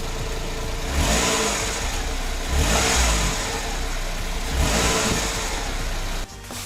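A Mitsubishi Wagon kei car on its stock exhaust revs up three times in steady succession, each rise swelling over a constant idle hum, heard up close with no talking, before the engine cuts off near the end.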